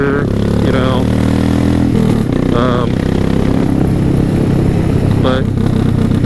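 Older Suzuki S40 single-cylinder thumper motorcycle with a carburetor being ridden, its engine droning loud and close underneath someone talking throughout.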